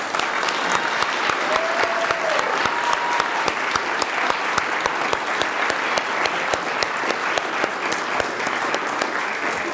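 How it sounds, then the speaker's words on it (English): Audience applause at a college governing board meeting honoring award recipients, a sustained room of clapping with a few sharper individual claps standing out near the microphone, lasting nearly ten seconds without talk. "So let's give them all a round of applause."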